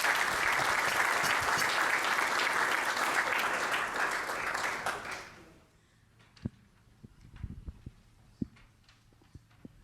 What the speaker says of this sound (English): I ask you to give a warm hand of applause to Dr. Gustav Claassen